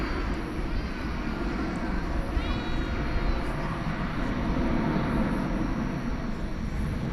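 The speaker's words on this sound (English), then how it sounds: "732 to Doha. A350 1000." Qatar Airways Airbus A350-1000 at DFW airport at night, a steady broad jet roar held at constant loudness throughout, with faint background chatter and a brief high whine partway through.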